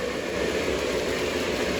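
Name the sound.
MTH Blue Comet electric model train running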